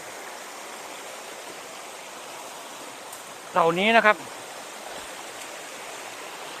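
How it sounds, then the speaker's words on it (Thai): A clear, cool forest stream flowing through jungle, narrowing and widening along its course, gives a steady, even rushing wash throughout, with someone speaking briefly partway through. "ลำธารบางช่วงอาจจะแคบ บางช่วงอาจจะกว้างครับ น้ำใสไหลเย็น"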